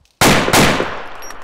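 A video game gunshot cracks sharply and loudly, followed at once by a second blast and a decaying rumble.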